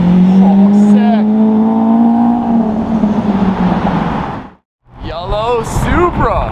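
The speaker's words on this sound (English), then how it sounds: "Yellow Supra." A yellow Toyota Supra passes close by, its engine rising and falling with a loud sweeping roar, then a brief cut and a second revving burst, with excited voices talking over it.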